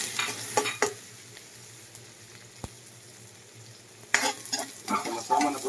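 Garlic, onion and siling labuyo chili fry in a pan for pork and chicken adobo, a low steady sizzle broken by loud bursts of stirring and scraping near the start and end.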